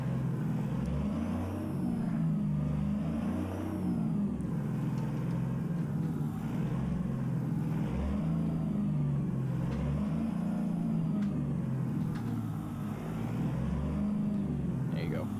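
A car engine idles and hums steadily near a Walmart trailer as the driver parks tight against it, a low continuous drone with slight swells and someone talking over it.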